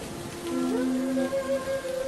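Rain pours steadily off a village house roof covered with taro leaves tied onto a wooden frame, a constant soft wash with faint tonal sounds underneath.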